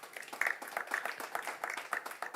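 Audience applauding at the MTC NFA Cup launch ceremony, a steady mid-level patter of many hands clapping, continuous across the moment with no voices over it.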